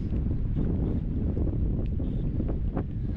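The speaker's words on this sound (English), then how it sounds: "Hard work casting into the wind" Steady wind blowing hard across the microphone during autumn trout fly fishing, a constant low roar filling the whole clip with brief higher gusts and rustles over it.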